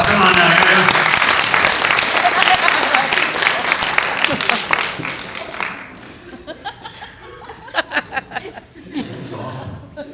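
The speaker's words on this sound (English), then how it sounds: "Give them a nice round of applause." Audience applause at a 2015 after-prom event, loud and dense for about six seconds, then thinning into scattered claps and chuckles that fade out, with a voice coming in near the end.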